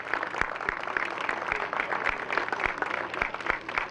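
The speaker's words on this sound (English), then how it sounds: "Let's give them a round of applause for donating those." Crowd applause at an outdoor cherry blossom cultural festival in Torrance, many hands clapping in a dense, continuous patter, with a few louder nearby claps standing out over the rest.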